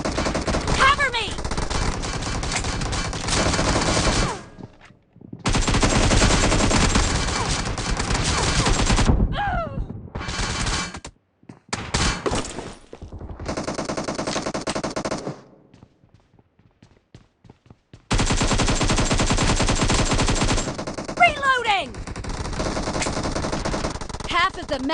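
Shotgun fire in the mobile game PUBG Mobile, loud bursts of repeated shots in long stretches broken by brief silences, with short pauses and a louder final volley.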